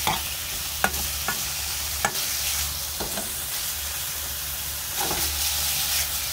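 Cabbage curry frying over high heat, a steady loud sizzle broken by sharp spatula scrapes and stirring clacks every second or so, with a low hum beneath.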